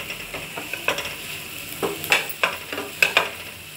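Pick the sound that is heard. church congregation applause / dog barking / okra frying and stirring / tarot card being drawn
okra frying and stirring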